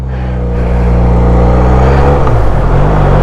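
A 2023 QJ Motor SRK 400 two-cylinder naked motorcycle roars steadily while being ridden, its loud engine hum and wind noise close and continuous with a slight rise in pitch toward the end.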